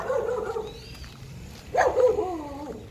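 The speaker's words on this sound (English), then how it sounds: "He's barking at this dog." A dog barks a few times at moderate distance, short sharp yelps in two bursts with a quiet gap between them.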